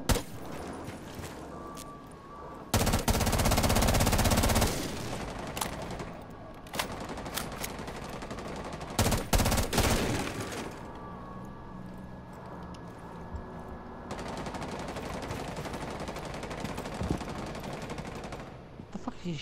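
Rapid bursts of gunfire in a video game, loud volleys coming in clusters with quieter gaps between them, and no talking.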